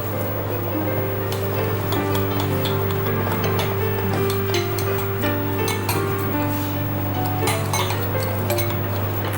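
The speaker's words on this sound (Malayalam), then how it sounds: "കസ്റ്റർഡ് ഇടയ്ക്കിടയ്ക്ക് ഇളക്കി കൊടുക്കുകയാണ്" Custard being stirred in a pot on the stove for a gelatin dessert, with steady clinks and scrapes of a utensil against metal over a constant low hum, close and continuous with no talking.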